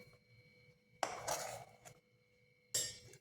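A spatula pressing and spreading cooked amla gooseberry candy onto a ghee-greased metal plate: two short scraping clatters, a brief tap between them, close and fairly quiet, with no voices.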